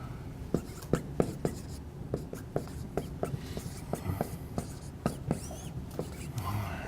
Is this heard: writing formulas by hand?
yes